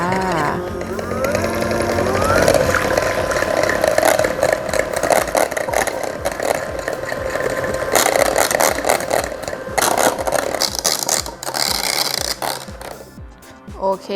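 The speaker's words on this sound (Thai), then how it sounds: "ตีเลยจนตั้งยอดแข็งเลยจ้า" Electric mixer whipping cream to stiff peaks for an orange roll cake, a continuous close whirring buzz with rattling clatter that shifts in pitch as the beaters move through the bowl.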